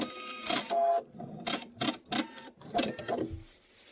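A sewing machine stitching in short, rapid mechanical bursts, several quick runs separated by pauses as the fix button locks the stitches while a table runner is pieced together.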